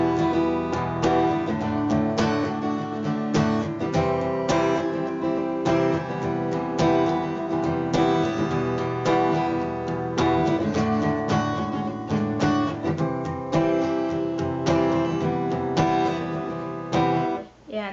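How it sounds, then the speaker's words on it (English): An acoustic guitar strums the chord progression of a song, full and close, with steady rhythmic chords and no talk until a brief stop at the end. "And that's the acoustic guitar."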